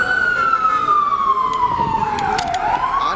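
An ambulance siren wails on a New York City street, loud and close, with one long falling tone that then rises again over steady traffic rumble.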